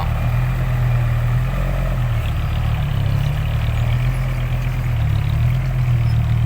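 A dump truck rumbles loudly and steadily at close range while driving to unload near the edge of a pit, its deep engine drone holding an even pitch throughout with no voices.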